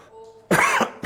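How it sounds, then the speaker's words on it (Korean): A single sharp cough from a teacher during a physics lecture, loud and close, following a quiet stretch with faint background hum. "기침했다."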